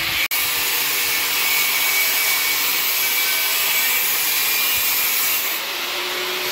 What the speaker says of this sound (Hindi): ये वेल्डिंग वाले भैया लग रहे हैं, ये काट रहे हैं पाइप